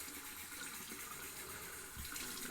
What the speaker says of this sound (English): that way you can get some warm water in there